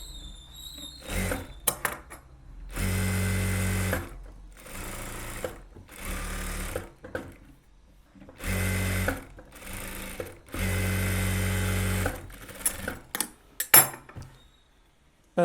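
Stitching a blouse back neckline on a sewing machine produces repeated runs of fast, close mechanical whirring, several short and a few longer, broken by pauses filled with light clicks, fabric handling and metallic clinks.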